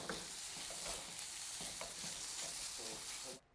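Bacon fries in a pan with a constant bright, crackling hiss and faint popping, fairly close and alone, then cuts off abruptly at the end.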